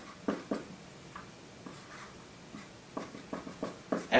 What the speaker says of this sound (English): so let's write it up here